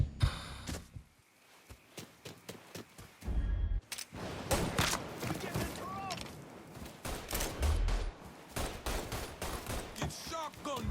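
Gunfire in a Mafia 3 robbery shootout: bursts of rapid shots and heavy blasts, including shotgun booms, crack loudly and repeatedly, with brief lulls between volleys and shouted voices mixed in.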